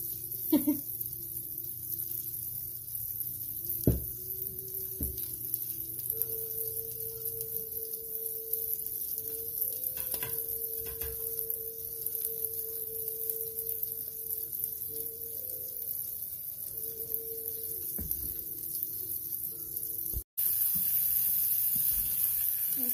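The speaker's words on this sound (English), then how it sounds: "It doesn't take long to cook the fish." Crusted tilapia fillet frying in a pan, a steady soft sizzle and hiss that runs throughout, with occasional faint kitchen clicks and a brief louder crackle near the end.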